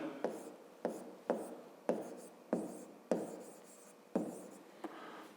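Pen or pencil writing on paper while noting the area of one grid square in a fifth-grade math exercise: a steady run of short scratchy strokes, about eight distinct bursts, close and fairly quiet, with no talking.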